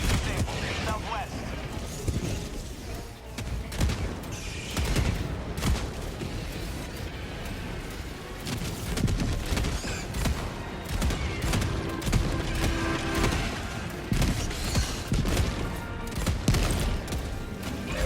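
Orbital strike explosions and gunfire in the video game Helldivers 2 against Terminids, heavy layered bursts of rapid gunfire and booming blasts rolling on throughout, with voices shouting over the chaos.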